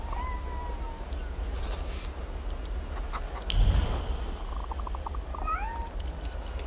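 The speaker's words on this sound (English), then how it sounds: "Here's a kitty." A cat meows a few times in a short, clear run inside an early 20th-century setting from The Thaumaturge video game. Steady ambient game noise sits underneath, and a soft thump rises midway.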